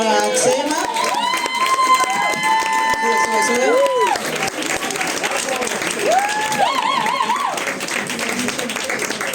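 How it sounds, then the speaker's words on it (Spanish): An audience at an education talk applauds a speaker, steady clapping heard under bright, whooping voices and cheers, with the applause running through the whole stretch. "quiero un aplauso muy grande para Chema."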